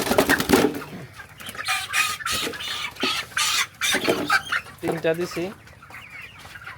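Broiler chickens cluck and squawk loudly and close by in repeated agitated bursts as they are set on a weighing scale, with someone talking among the calls.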